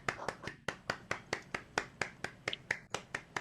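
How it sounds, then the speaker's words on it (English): An audience applauding at the close of a CSUSB college presentation on equity gaps, sharp evenly spaced claps from a small group, fairly faint and with no talking. "Please, let's clap for Dr. Wood."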